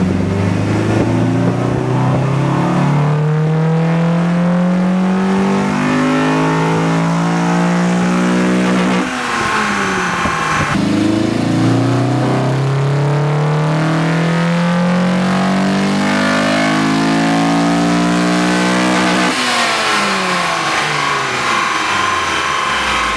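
A Honda Integra engine on a dyno, loud and close, revving through two long climbing pulls with a sharp drop and pause between them, then a third rise at the end, alone without talk.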